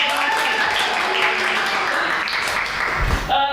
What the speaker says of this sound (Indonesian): Ada tepuk tangan dulu dong